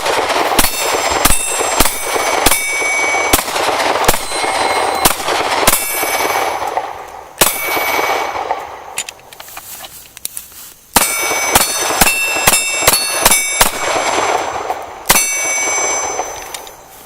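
Gunshots ringing off steel bowling pin and plate targets at a shooting range, a long string of sharp metallic clangs in quick bursts with brief pauses, loud and close.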